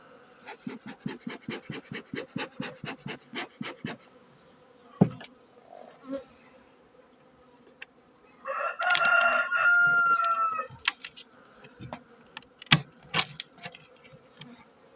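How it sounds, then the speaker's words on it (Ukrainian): Honeybees buzzing close by at their hives on a sunny day, with humming that rises and falls and a rapid, pulsing drone early on, plus scattered clicks and a louder burst midway. "Бджілки підігрілись на сонечку."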